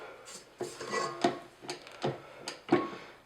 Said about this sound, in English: 1 more scrape of the bowl, make sure we've got everything